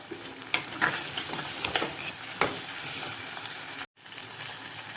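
Dried ayirai fish sautéing in a pan, with close sizzling and sharp scrapes of stirring at irregular intervals, then a brief cut to silence before the frying resumes.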